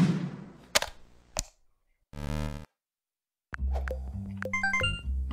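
A player ship fires its gun in a Pico-8 shmup video game: several short, crisp retro chiptune blasts and zaps, separated by silent gaps, ending in a quick cluster of bleeping shots.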